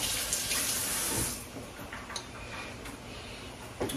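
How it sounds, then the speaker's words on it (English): A kitchen tap runs while hands are rinsed under it, a steady close splash of water with small knocks and clatters, no talking. "I'm rinsing my hands, y'all."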